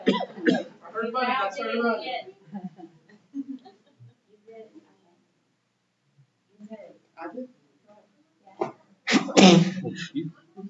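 A sharp sneeze bursts out near the end of a school board meeting, following scattered talk and a quiet pause.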